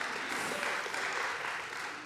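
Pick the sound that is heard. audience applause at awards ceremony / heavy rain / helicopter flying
audience applause at awards ceremony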